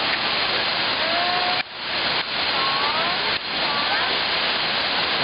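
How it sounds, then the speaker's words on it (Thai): Steady loud rushing water of a multi-tiered limestone waterfall, a continuous broadband roar with a few brief dips, heard up close. "น้ำตกพาเจริญนี่ เป็นน้ำตกหินปูนนะฮะ"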